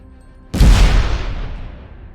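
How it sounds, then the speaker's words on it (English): Explosion sound effect detonating across a river: a sudden heavy boom after brief quiet, followed by a long rumbling decay. "A massive explosion detonates across the river."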